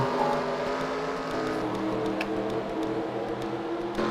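Several race cars in a stock-car racing video game roll onto pit road after a crash, a steady, continuous engine drone with layered tones at fairly constant loudness and no voices.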